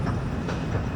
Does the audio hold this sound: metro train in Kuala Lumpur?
yes